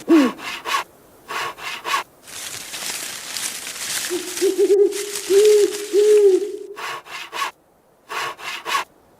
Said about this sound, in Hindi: झाड़ियाँ काट काट के मैं तो थक गया हूँ।